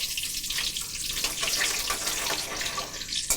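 Crushed garlic hits hot oil already holding mustard seeds, urad dal and curry leaves, giving a steady, close, hissing sizzle that holds evenly throughout with a few crackling pops.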